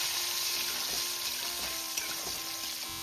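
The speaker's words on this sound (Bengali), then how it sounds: "তাই আলুটাকে আমি একটু ভেজে তুলে নিচ্ছি" Potato pieces frying in hot oil, a steady dense sizzle and crackle throughout with faint bubbling, close and even, no voices.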